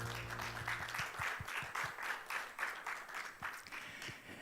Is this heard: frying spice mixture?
no